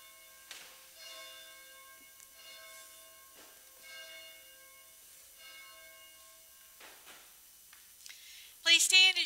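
Church bell at a Sunday service, ringing in several slow, evenly spaced strokes with long ringing tones that fade between hits, fairly soft, ending with a louder burst of other noise.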